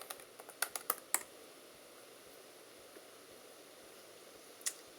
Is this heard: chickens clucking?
no